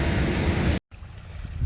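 Water rushes into a drainage ditch on a flooding property, a steady broadband wash with a brief dropout partway through, then a quieter continuous flow.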